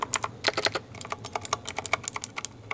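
Rapid typing on a Razer BlackWidow V3 Tenkeyless clicky mechanical keyboard, a close, crisp string of sharp individual key clicks at an uneven quick rhythm, with no voices.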